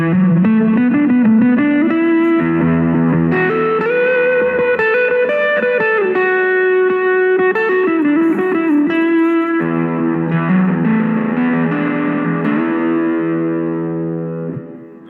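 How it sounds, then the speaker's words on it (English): Electric guitar through fuzz stomp boxes, sustained chords and bends with a dissonant, gritty crunch, loud and alone, fading at the end. "I love how you can get that kind of dissonant crunch by mixing."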